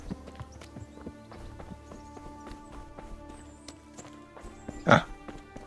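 Hooves clip-clop in a steady walking rhythm from a horse in the video game Henry's Adventure, moderately close over a droning musical background, with one louder thump near the end.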